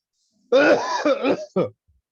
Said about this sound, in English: like I just coughed